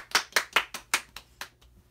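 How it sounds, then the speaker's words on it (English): Around seven sharp hand claps ring out at home, evenly spaced and close by, with no talking, the last few growing softer before stopping. "Applause for my dad,"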